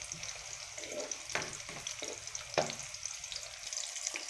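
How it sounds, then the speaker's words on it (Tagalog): Garlic and onion sautéing in a pan for a Filipino upo and corned beef dish, giving a steady sizzle with a few louder stirring clacks near the start and middle, close and alone. "Isatay lang natin yung ating bawang, sibuyas."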